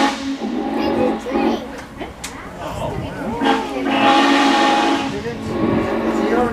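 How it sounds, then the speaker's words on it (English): Steam whistle of the N&W 611 steam locomotive, sounding as a drawn-out tonal blast while riding the Strasburg Railroad, heard amid train rumble and hiss with people talking nearby. "They got the ghost whistle, listen up."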